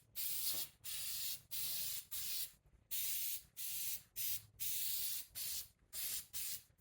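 Short bursts of textured flat spray paint hiss from an aerosol can onto motorcycle headlight covers, about ten evenly spaced sprays with brief gaps between them, close and steady.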